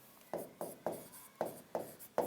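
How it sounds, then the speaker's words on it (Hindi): Marker or chalk strokes on a classroom board while a teacher writes a name, six quick scratchy strokes in an irregular rhythm, close and clear with no talking. "देखो मैं लिख देता हूं"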